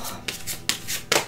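A deck of oracle cards is handled in a few soft shuffling swishes, three distinct brushing strokes at close range with no speech.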